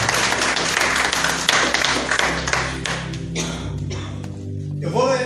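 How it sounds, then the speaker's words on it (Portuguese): A church congregation standing and clapping hands together, dense rhythmic applause filling the room, fading toward the end with voices rising over it. "palmas para Jesus."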